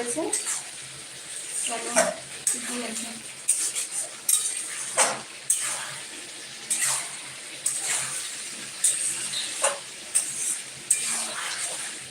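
Cauliflower and egg are stirred and fried together in a pan. Repeated metallic scraping and clinking strokes of a spoon against the pan recur at an irregular rhythm over a moderate background sizzle, with some speech mixed in.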